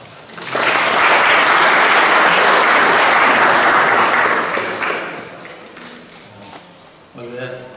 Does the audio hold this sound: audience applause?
yes